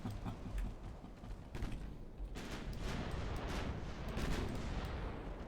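Naval guns fire a broadside at a convoy in the warship game Ultimate Admiral Dreadnoughts: a dense, sustained rumble of overlapping gun reports and booms, loud and continuous with no pauses.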